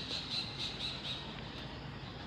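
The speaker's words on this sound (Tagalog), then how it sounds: "maririnig mo yung mga ibon." A bird calls in short, evenly spaced squawks, five in a row, over a steady outdoor hiss on Mount Arayat; fairly faint and somewhat distant.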